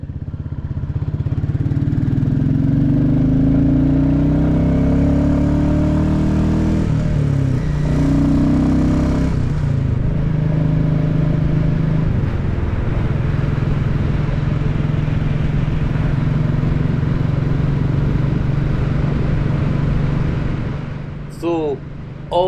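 Small Royal Enfield motorcycles ride along Berwickshire roads with a steady, loud engine drone throughout, with a brief rise in revs early on and some wind buffeting, and no one talks.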